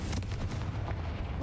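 A Confringo fire spell exploding in the game Hogwarts Legacy, a brief loud booming blast with crackling rumble, heard up close and without any speech.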